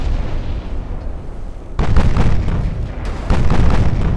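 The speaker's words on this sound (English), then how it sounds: "Fire the 8s. Fire them." Warship 8-inch guns fire in the naval game Ultimate Admiral Dreadnoughts: two heavy, rumbling broadside booms, the second a moment after the first, each rolling on over a low ambient sea drone.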